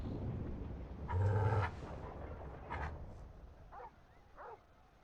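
Torgal, the dog companion in Final Fantasy 16, barks a few times in the game, one strong bark followed by quieter yips and whimpers, fairly close against a soft background.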